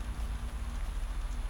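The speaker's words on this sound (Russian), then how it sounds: "сразу же дал проливной дождь сильный" Heavy rain in the DayZ survival video game, a soft, steady hiss of downpour with a faint low rumble beneath, continuous and even throughout with no voices.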